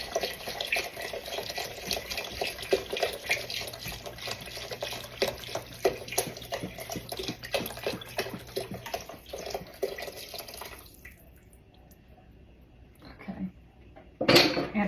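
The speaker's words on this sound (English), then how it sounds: "I'll add a little more water." Water and broth poured into a pan of one-pan pasta, a steady running splash with clinks of dishes for about ten seconds, then near quiet before a short louder clatter at the end.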